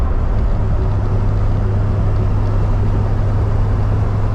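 An Aston Martin DBS V8 cruising in fifth gear, its steady low engine drone and road rumble filling the cabin, with any gentle rattle buried in the continuous noise rather than standing out.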